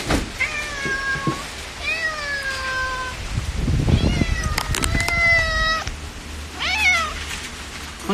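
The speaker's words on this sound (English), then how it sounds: "My cats, you guys wanna come to the cat cafe?" Several cats meow in turn, drawn-out and whiny calls, close by, with some soft bumping and handling noises between them.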